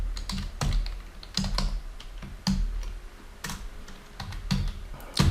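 Typing HTML code on a computer keyboard: a close run of irregular, crisp key clicks with a few sharper, louder strokes, and no talking.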